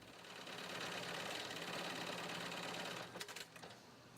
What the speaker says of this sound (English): Workers use heavy-duty sewing machines to stitch Velcro and other materials to the BCD.